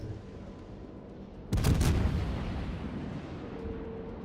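Naval gunfire from the Mogami cruiser in a warship video game, one loud boom at about a second and a half with a sharp crack, then a long rumbling decay.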